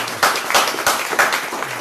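A short burst of lively clapping from an audience at a Barcelona Pan-African movement tribute to Winnie Mandela honours one of the attendees, with sharp, overlapping claps throughout.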